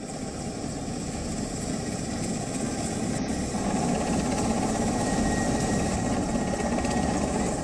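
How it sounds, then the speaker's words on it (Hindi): Rescue helicopters work over flooded monsoon areas in Nepal, giving a loud, continuous rotor and engine drone. The drone stays close and steady throughout and swells a little in its second half. "नेपाल सरकार ने 6 हेलीकॉप्टर रेस्क्यू ऑपरेशन में लगाए हैं, जो बाढ़ प्रभावित इलाकों में फंसे लोगों की जान बचा रहे हैं।"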